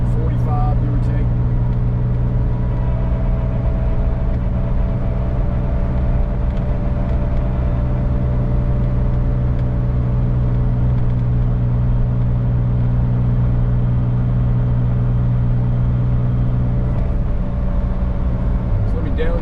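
Vintage Porsche 911 cruising steadily in fourth gear at about 45 mph, a constant low engine drone with road and wind noise throughout, heard from inside the car while someone talks over it.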